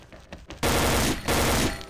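Rapid bursts of gunfire in the game XSHOT, loud and close, in two dense volleys separated by a brief gap, after a quieter stretch of muffled game sounds.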